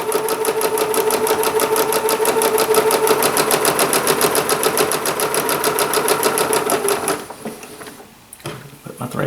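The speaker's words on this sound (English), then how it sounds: "Slide it back under on the other side of the line and sew right down, using that as my 1/4 inch mark." Sewing machine stitching quilt pieces for flying geese blocks, a steady fast rhythmic whir and clatter close by for about seven seconds before it stops, with someone speaking over it.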